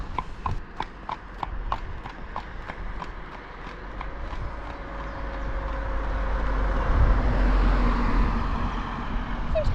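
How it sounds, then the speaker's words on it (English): Rhythmic clip-clop of loose horses' hooves on a road near Hamburg, a brisk run of regular beats that fades as a vehicle engine rumble grows louder. "Kind of odd to have horses running wild on the road"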